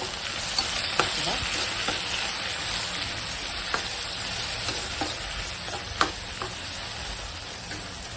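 Thinly chopped vegetables and tomato pieces sizzle steadily in a pan for a bean-seed tomato curry, with scattered light scrapes and taps as they are stirred. The frying is close and continuous, with no talking.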